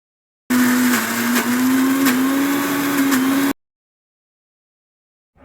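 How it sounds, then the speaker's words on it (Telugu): A kitchen mixer grinder churns soaked urad dal into batter for vada, a loud steady motor whine with a constant pitch running for about three seconds, then cutting off to silence. "తర్వాత మిక్సీకి వేసి గ్రైండ్ చేసుకోవాలి"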